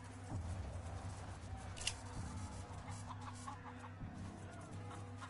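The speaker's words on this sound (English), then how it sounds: "Look at all them chickens!" Chickens cluck in Wasteland 2: Director's Cut on PS4, several birds fussing together over a low, steady game background with soft, scattered clucks throughout.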